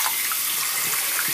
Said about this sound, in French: Donc on va d'abord faire remplir le lavabo d'eau bouillante.